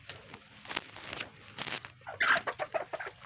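Hens clucking inside a cramped egg-laying coop, a string of short, fairly close clucks that grows busier and louder toward the end, with faint rustling and footsteps around them.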